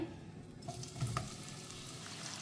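Sliced onions tipped into hot oil in a kadai, bursting into a sizzling fry after a brief clatter, steady and close for a couple of seconds.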